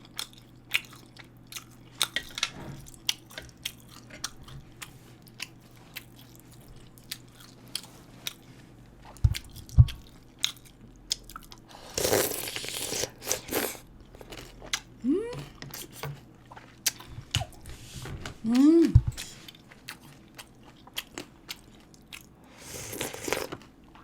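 Someone eating soup tteokbokki, Korean rice cakes in broth, with soft chewing, biting and wet slurping sounds close to the microphone, in irregular bursts and a few louder crunchy moments.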